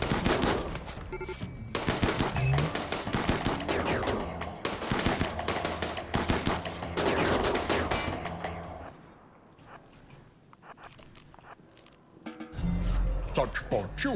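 Mortar blasts and rapid gunfire crackle through a drop pod raid in RimWorld, dense bursts of shots running for about eight seconds, easing into quieter scattered pops, then a heavy thump near the end.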